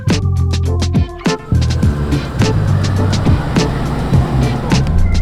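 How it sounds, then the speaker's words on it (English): A car creeps slowly around the block, a loud, close engine rumble heard from inside with knocks and bumps scattered over the steady drone. "we're just taking a spin around the block"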